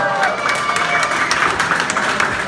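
Live audience applause at a boxing talk event in Odesa, a dense, steady wash of clapping and crowd noise that holds for a few seconds without letting up.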